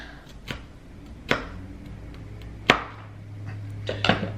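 A knife cuts peppers into strips on a board, giving a few sharp, separate knocks with long quiet gaps between them, fairly close and fairly loud, with no talking.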